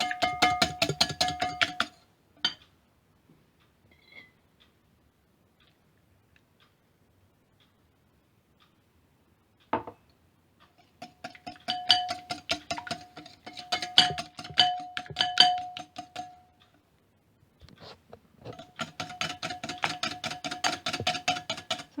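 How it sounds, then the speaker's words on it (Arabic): A hand whisk beats egg yolks with olive oil in a bowl, making fast, regular metallic clicking and ticking in several bursts separated by pauses, close and clear. "أخذ صفار البيض وأخفق بالخفاق اليدوي، ثم تنضيف له زيت الزيتون"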